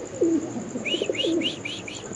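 Pigeons of the gola breed coo in low, rolling calls, with a run of bright chirps from other birds threaded between them. The calls are close and clear against a steady background hum.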